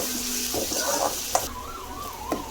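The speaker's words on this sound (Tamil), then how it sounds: "நல்லா பொன்னிறமாக வதக்கட்டும்" Onions sautéing until golden brown, sizzling and hissing in hot oil, a steady frying crackle with a couple of sharp clinks and a faint tone in the background.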